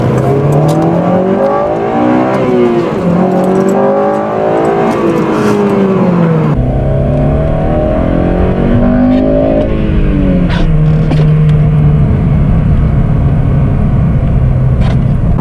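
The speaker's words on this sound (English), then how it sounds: "And we'll actually hit VTEC right now." A Honda Civic Si (8th generation) engine revs hard into VTEC, pitch climbing through the gears with a loud, rising howl as it accelerates, then shifting and climbing again.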